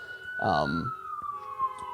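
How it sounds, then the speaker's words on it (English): Ambulance siren stuck outside an apartment, a steady wailing tone heard from indoors, with a voice talking briefly over it near the start. "there's an ambulance that's stuck at my apartment"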